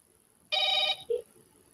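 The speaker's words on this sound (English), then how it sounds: "It's like the dial tone itself is loud." A single short electronic telephone ringing tone, loud and close, followed by a brief lower blip, then quiet.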